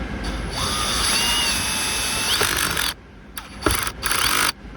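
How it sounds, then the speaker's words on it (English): A cordless drill drives a screw while working on the interior of a 2020 Honda Pilot, its whine rising in pitch for a couple of seconds, then cutting off, followed by short bursts as the clutch slips. "I have this drill set on too, so it's not gonna really break anything"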